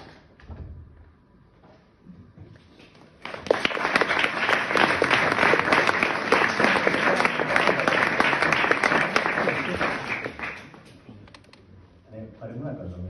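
Loud, sustained audience applause at a poetry recital in Barcelona, a dense wash of clapping lasting about seven seconds before fading, with quieter room sounds and a voice before and after.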